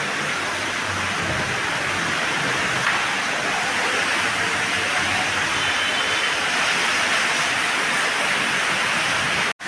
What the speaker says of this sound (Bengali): চরম বৃষ্টি হচ্ছে রায়গঞ্জে